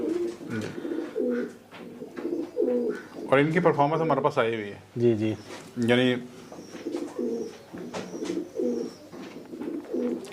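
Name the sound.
pigeons cooing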